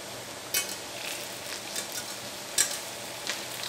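Duck breasts sizzle and fry in a pan, a steady crackling hiss with a few sharp spits and pops, close and fairly quiet with no voices.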